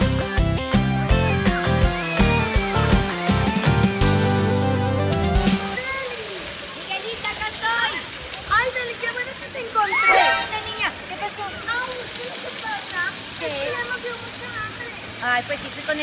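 At a water park, splashing water sloshes and spatters after a loud stretch of music, with people talking over the water.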